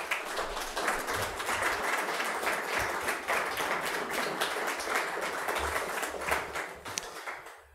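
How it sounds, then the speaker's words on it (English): A room of listeners at a city media briefing in Sioux Falls claps steadily for several seconds, a continuous patter of hands heard at moderate distance without talk over it, fading slightly at the end. "give them a round of applause"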